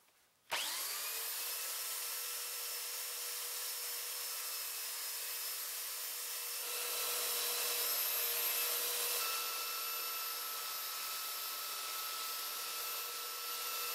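Belt sander working a wooden edge with the belt angled to it, a loud continuous whine that starts abruptly and holds steady with bright tonal overtones, close and alone with no talk.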